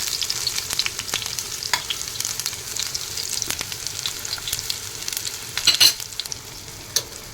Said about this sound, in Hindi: अरबी के पत्तों को आप स्टीम भी खा सकते हैं या फिर इस तरह से शैलो फ्राई करके भी खा सकते हैं।